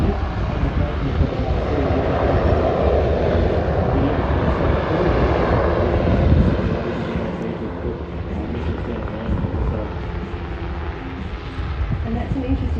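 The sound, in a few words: MH-60R Seahawk helicopter flying a display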